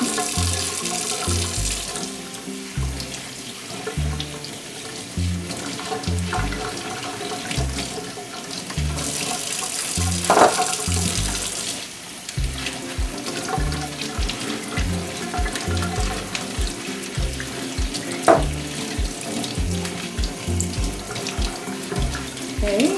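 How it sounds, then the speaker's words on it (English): Sandy root vegetables washed under a running tap into a sink, water splashing steadily nearby with rhythmic pulses and handling knocks as the produce is scrubbed, no talking. "These things are very sandy, so we definitely need to wash them off thoroughly."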